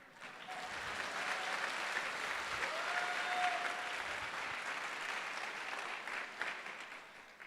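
Applause from a congregation at a Hindi church conference session, a sustained broad clapping from a large crowd that swells in and holds steady, with a faint tonal whistle or feedback briefly audible.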